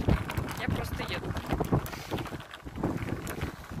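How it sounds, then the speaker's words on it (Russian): Strong wind of about 15 metres per second buffets the microphone while riding an electric scooter, heavy, uneven gusts in a loud rumbling roar that rises and falls throughout. "ветер у нас 15 метров в секунду"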